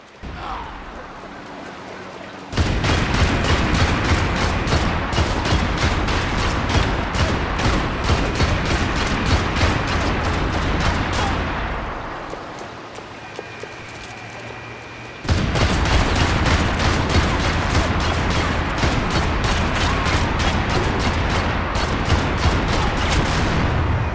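Heavy gunfire in Max Payne 3, long dense bursts of rapid automatic shots, loud and sustained, easing into a quieter stretch mid-way before an abrupt return to full volume.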